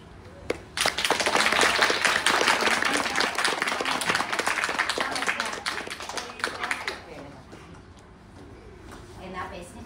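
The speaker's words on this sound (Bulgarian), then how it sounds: "а сега очаквам вашите аплодисменти за нашите танцовки" Audience applause for child dancers at a March 8 celebration, a dense burst of many hands clapping that swells quickly, holds steady for several seconds, then thins out and fades.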